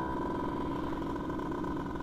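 A Yamaha F1ZR two-stroke motorcycle engine idles steadily up close, a continuous buzzing, rattly drone with no speech over it.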